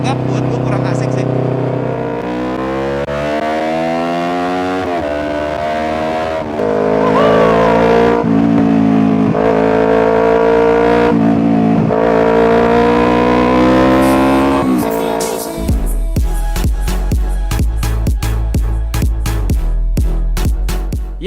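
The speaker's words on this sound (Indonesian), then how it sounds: "Ya itu tadi rasanya test ride Ninja yang pakai wheel dop ya." A Kawasaki Ninja 250Fi motorcycle on a test ride revs loudly and climbs through repeated rising pulls, each run winding up in pitch before easing off. It ends in a rougher, clattering idle.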